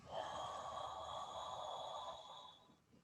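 A slow inhalation with an open-mouthed ho sound during a breathing class, a faint steady airy tone lasting a few seconds before tapering off.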